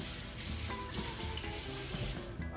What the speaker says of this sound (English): I'll go ahead and rinse my blender and pour it in.